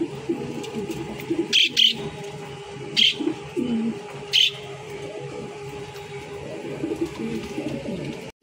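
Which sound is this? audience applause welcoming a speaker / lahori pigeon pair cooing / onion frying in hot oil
lahori pigeon pair cooing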